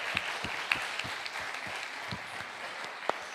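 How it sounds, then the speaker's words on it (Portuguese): Church congregation at a worship service applauds, with a dense, even patter of many hands and some individual claps ringing out close by. "Vamos aplaudir o Senhor pela vida dessa família?"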